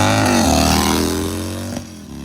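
A hot rod Harley FXR motorcycle engine running loud and close, a deep rumbling drone that eases slightly in pitch before a small blip near the end.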